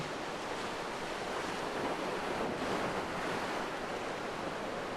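Steady roar of wind and crashing surf, a continuous broad wash of noise with no pauses or voices.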